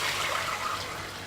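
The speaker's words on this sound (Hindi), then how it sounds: "अब मैं इसमें 1 किलो पानी डालूंगी," Water pours into a pot of fried fish for fish and bean soup, a steady splashing gush at close range, with no talking.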